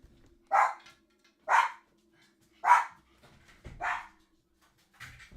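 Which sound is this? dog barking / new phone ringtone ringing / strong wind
dog barking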